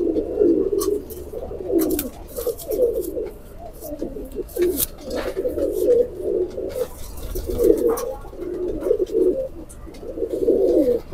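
A pair of Rampuri pigeons coos close by, with repeated low, throaty warbling phrases rolling one after another and short pauses between them.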